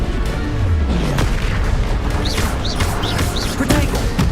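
Blasting spell explosions in the Hogwarts Legacy video game, a dense run of booming bursts and crashes over continuous battle noise with whooshing spell effects, loud and close throughout.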